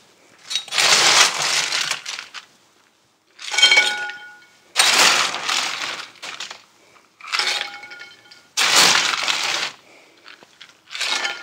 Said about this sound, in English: we will just add loads and loads of ice in there